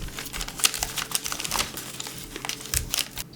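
Thin, papery dried flower petals crinkle and crackle close up, a dense run of fine rustling ticks like tissue paper being handled, with no talking.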